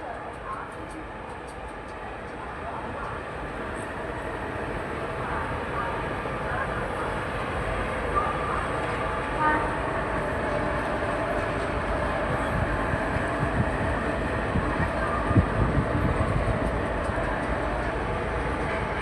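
A special passenger train running from Rajkot to Bhuj rumbles along steadily, a continuous heavy roll with faint rhythmic clatter heard from inside, with a voice speaking faintly over the noise.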